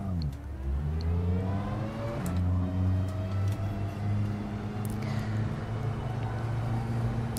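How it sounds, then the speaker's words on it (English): A Tatuus F3 race car with a Cosworth engine revs in the rFactor 2 racing sim, its engine note rising and falling in steady harmonic sweeps, close and loud with no talk. "Judging by what says on the steering wheel, this is a Cosworth engine"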